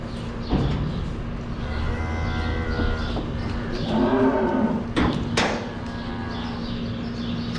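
Dairy cows in a barn low and moo loudly and close by, with several drawn-out calls overlapping and a few sharp knocks partway through.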